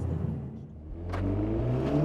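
A Mercedes-AMG A45 S pulling away on the road, a close engine rumble that builds steadily as the car accelerates, with a rising whirring tone in the second half.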